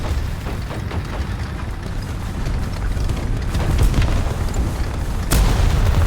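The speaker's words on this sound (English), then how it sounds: "someone shooting at me" Rumbling explosions and gunfire in War Thunder form a dense, continuous low roar with muffled booms, and a sharper blast arrives near the end.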